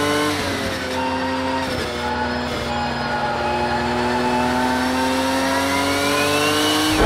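Race car engine heard from the bonnet view in Project Cars 2, a loud, steady engine drone with rising harmonics as it accelerates and gear-shift dips early on, intake roar throughout.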